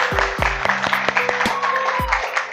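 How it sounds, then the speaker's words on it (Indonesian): Bursts of clapping from a classroom group, uneven and fairly close, with some overlapping voices and scattered noise. "Tepuk tangan buat semuanya."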